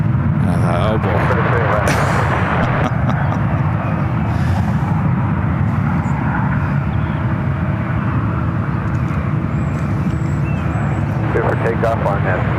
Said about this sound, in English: Takeoff on that 6 Southwest 3281